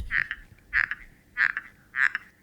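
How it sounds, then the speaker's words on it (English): The thin steel pocket clip of a Kizer Infinity knife squeaks under pressure, giving four short, evenly spaced chirping squeaks. They are close up and fairly clear over faint background noise. "So that squeaky sound is the sound you get when you put any pressure on the knife."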